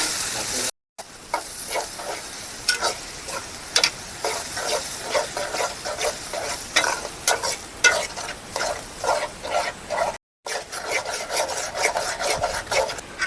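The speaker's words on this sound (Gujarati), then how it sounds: "હવે કરી દઈએ મિક્સ." A spoon stirs and scrapes through a spice tempering of turmeric and Kitchen King masala with a little water, made for Gujarati urad dal, a continuous rough rasping and sizzling with rhythmic strokes, broken by two brief silent gaps.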